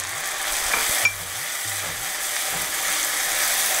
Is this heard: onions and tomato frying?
yes